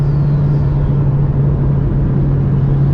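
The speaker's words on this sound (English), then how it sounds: "I love the way this car picks up speed and holds the road." Mitsubishi Lancer Evo 9 MR driving on the road, its engine a steady, close, loud rumble with a constant low hum as the car picks up speed.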